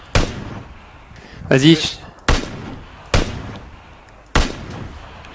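Gunfire in PlayerUnknown's Battlegrounds, four sharp separate shots at irregular intervals, fairly close and loud, with a player speaking briefly between them.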